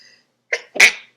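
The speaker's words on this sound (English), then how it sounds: "Oh my god, I have to sneeze." A single close sneeze, a short sharp intake followed by a loud burst, in an otherwise quiet room.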